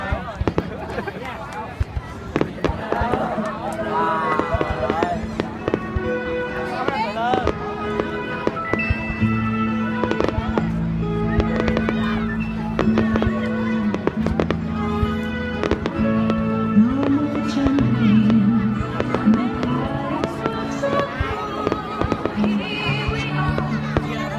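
A New Year's Eve fireworks display in Đăk Mil in 2018, with dense, continuous crackling and popping bursts outdoors, heard under loud music and people talking and cheering nearby.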